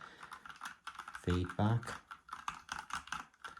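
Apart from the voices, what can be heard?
typing on Redragon mechanical keyboard with red switches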